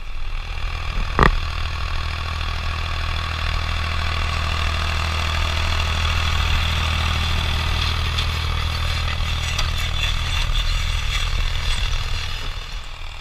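A tractor engine runs steadily while disking a farm field, giving a constant mid-pitched drone close by with a sharp clank near the start and faint rattles later, and no speech.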